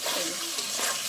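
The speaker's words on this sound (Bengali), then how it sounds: "এবার আমি পরিমাণ মতো জল দিয়ে দেবো।" Water pours into cooked curry masala in a pan for an egg curry, a brief, loud, close gushing splash heard alone.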